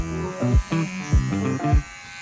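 An electric shaver buzzes steadily while trimming arm hair, the hum rising and dipping in pitch as the head is pressed down in several short passes, loud and close.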